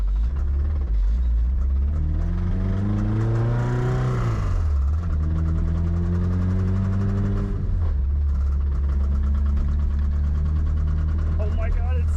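A struggling car engine, from a budget Lotus Elise-style car, drones and labors while driving, its pitch rising and then dropping sharply before rising again, loud and rough throughout.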